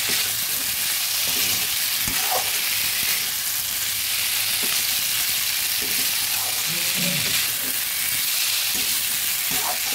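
Potato and green pea ghugni is stirred in a pan, giving a continuous close-up sizzle broken by soft scrapes and knocks of the spoon.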